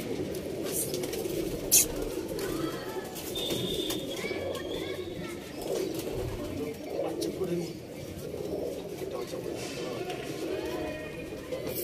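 Pigeons coo steadily in a loft, a low murmuring chorus that runs through the whole stretch while people talk nearby, with a brief sharp knock early on.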